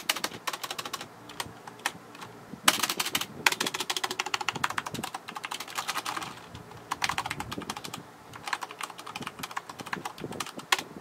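Rapid typing on a Corsair K70 RGB Mk.2 mechanical keyboard, with dense, continuous clacking keystrokes in uneven bursts and short pauses, close and clear with no talking.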